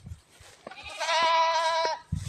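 A goat in the Philippine countryside lets out a single drawn-out nasal bleat, close and clear, with faint farmyard noises before and after.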